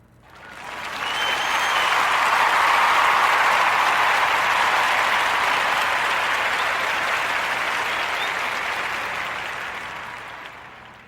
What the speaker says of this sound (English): let's give a warm Narrative Podcast round of applause